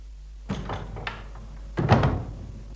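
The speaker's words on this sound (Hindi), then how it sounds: "दरवाजा बंद कर दो" An indoor door is pushed shut, starting with a soft creak and shuffle and ending in a firm thud about a second later, close and alone with a steady background hum.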